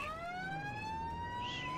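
An ambulance that doubles as a fire truck in the game River City wails its siren, a clear rising electronic tone with strong harmonics, heard alone at moderate level.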